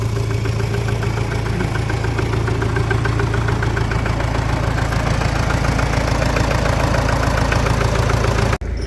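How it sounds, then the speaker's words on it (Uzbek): A Belarus MTZ tractor engine idles close by, a loud, steady low chugging rumble that continues evenly before cutting off at the end. "MTZ motor, motorimizni ishlashini ko'rib turibsizlar. Tekis holatda ishlayapti."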